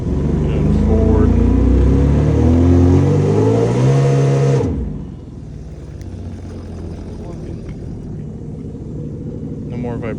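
A boat engine runs loud and rumbling while the boat sits on its trailer, then its tone drops and settles to a steadier, quieter idle midway through; the engine previously had water in its oil.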